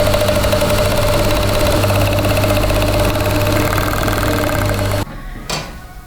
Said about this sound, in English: I think I'm going to serge it.